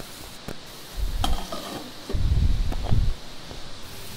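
Chili powder mixture stirred in a hot pan, giving short scraping, rustling strokes with a soft sizzle underneath; a few separate bursts of stirring, close and moderately loud.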